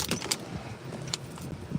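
A bunch of keys jangles close by in short metallic bursts, a couple of quick clusters over faint background noise.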